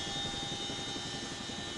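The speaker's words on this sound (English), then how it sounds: "the Chinook, the heavy lifter, heaving 6 tons or more of tents and blankets to high-up hilltop villages" A Chinook heavy-lift helicopter flies close and loud, its rotor and engine roar a steady, unbroken drone with no voices over it.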